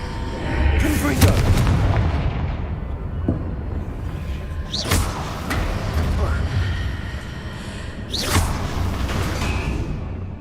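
Confringo blasting-curse explosions in a Harry Potter video game, three loud booming blasts with whooshing tails over a constant rumbling game soundtrack, with a voice speaking in places.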